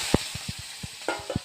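Crabs being sautéed in hot oil in a pan, with quick, close stirring clatter and a few rapid scrapes and taps over a continuous hiss of frying.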